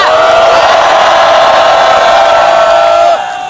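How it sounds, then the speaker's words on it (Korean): A loud crowd at a candlelight political rally roars and cheers continuously, a dense wall of voices that drops off suddenly near the end. "큰 박수와 함성 부탁드립니다"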